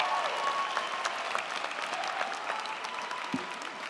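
An audience at a university school of education commencement applauds the graduates, steady, moderately distant clapping that carries on throughout, with a faint murmur of crowd beneath.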